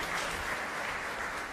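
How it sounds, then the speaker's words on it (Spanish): A church congregation at Mass applauds Cintia with a steady, dense wash of many hands clapping. It stays even and sustained throughout, with no voices rising above it. "Un fuerte aplauso para Cintia."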